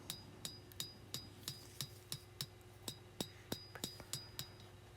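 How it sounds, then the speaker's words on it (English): A hand hammer planishing a forged Bowie knife blade, smoothing out marks left by a power hammer: sharp metallic ringing strikes land in a steady rhythm, about three per second, fairly faint but clear against a low background hum. "All I'm really doing is planishing out the hammer marks from the power hammer and refining my blade profile."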